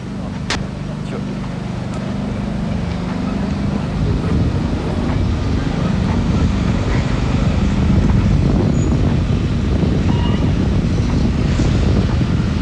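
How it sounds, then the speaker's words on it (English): Gusty wind buffeting an outdoor bowls green during a pairs semi-final in Australia, a loud broadband rumble that swells and stays strong throughout, with no clear talk over it. "It's got gusty all of a sudden."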